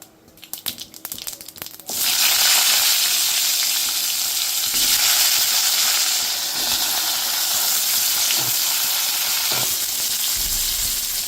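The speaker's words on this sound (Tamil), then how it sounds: "கடுகு வெடிச்சப்புறமா இந்த காய்கறிகள் எல்லாம் போட்டுவிட்டேன்." Vegetables frying in oil in a kadai after mustard seeds have spluttered, giving a loud, steady sizzle and hiss that starts abruptly after a couple of seconds of quieter clatter and continues alone.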